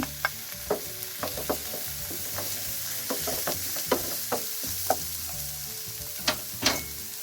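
Cassava vada batter being mixed with chili flakes, chili powder, salt and coconut, giving a steady run of soft, close scraping and tapping stir strokes in a bowl, with no talking.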